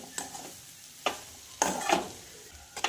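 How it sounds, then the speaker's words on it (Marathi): Dry green peas sabzi, seasoned with salt, fries in a pan with a soft sizzle. A few sharp spatula scrapes and stirs cut through at irregular intervals, fairly quiet and with no talking. "तर छानपैकी आपण याला फ्राय करून घेऊया।"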